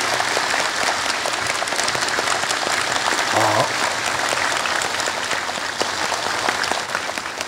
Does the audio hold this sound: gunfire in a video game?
no